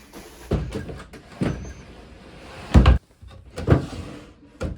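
A dresser drawer slid open and shut in a New York City apartment during unpacking and organizing, giving several separate wooden thumps and scrapes at close range, with faint room noise between them.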